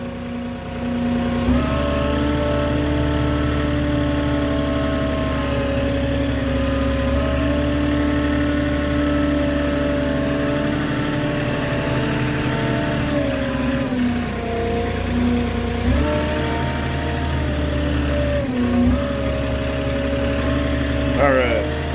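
A truck-mounted Moffett forklift drives through a tight backyard, its mid-pitched diesel engine running steadily close by with a few brief shifts in revs, and someone talks at times over it.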